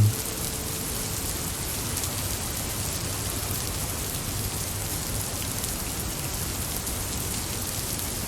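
Steady simulated rainstorm from a game-engine terrain weather effect, a dense, even hiss of rainfall holding at constant loudness throughout, with no voices.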